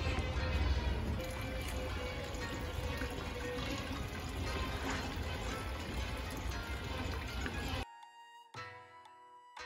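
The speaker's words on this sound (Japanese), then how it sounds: "水の音もいい感じだ、" Water pours and splashes steadily through a newly built Japanese garden stream, a loud continuous rush that cuts off abruptly near the end, leaving a quieter trickle.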